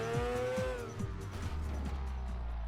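Racing car engine from the Switch game Street Racing: Tokyo Rush, revving loudly and continuously with a high tire squeal over the top.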